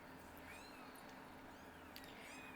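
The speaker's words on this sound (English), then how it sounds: "My little kittens are over there" Several kittens meow faintly in the distance, thin rising cries drifting over a steady background hiss, with a couple of brief calls standing out near the end.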